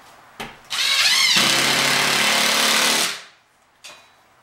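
A power drill drives a screw into drywall during a repair, giving one loud, steady whir of about two seconds that winds down, with short clicks before and after.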